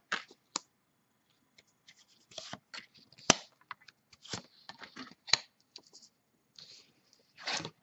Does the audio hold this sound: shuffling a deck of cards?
yes